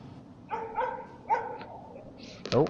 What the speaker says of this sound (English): Oh, my dog has lost me in the woods, so she's barking at me.